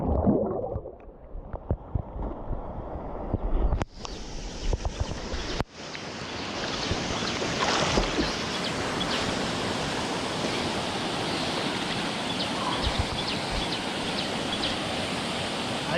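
The Bambarakanda waterfall roars as a constant broadband rush of falling water in a jungle setting. It opens with some brief knocks, then becomes a steady, loud, close roar with no talk.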